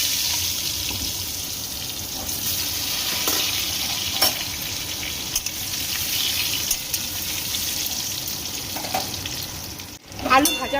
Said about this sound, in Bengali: এবার আলু ভেজে নেব